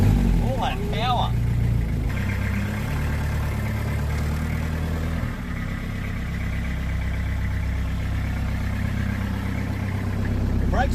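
A 20-year-old truck engine idles steadily with a low, continuous rumble, close by, while people talk briefly over it near the start.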